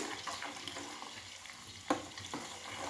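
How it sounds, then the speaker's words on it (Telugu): Ghee heating in a pan for ghee-laced urad-flour flatbread, a soft steady sizzle with faint crackles and a brief sharper pop, moderately quiet with no talking. "ఓ పక్కన నెయ్యి కాగుతుంది."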